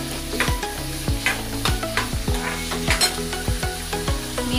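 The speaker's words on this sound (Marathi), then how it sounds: "आता इथे मी कांद्याला व्यवस्थित तेलामध्ये फ्राय करून घेणार आहे।" Onion frying in oil in a pan over medium gas for egg bhurji, a close steady sizzle broken by regular scraping strokes of a stirring spoon.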